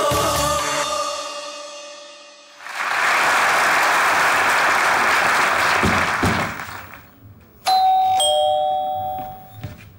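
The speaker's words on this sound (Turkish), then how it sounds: "Kocaman alkışlarınıza" An audience at a comedy sketch show breaks into loud applause, a dense roar of clapping lasting several seconds between a musical sting and a doorbell-like chime.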